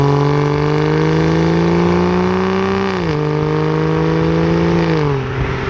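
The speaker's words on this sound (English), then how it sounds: "the engine tone of this is amazing" Aston Martin DB9 Volante engine and exhaust revving loudly up close, a steady deep drone with rising and falling pitch as the throttle shifts, dropping slightly near three seconds and again near the end.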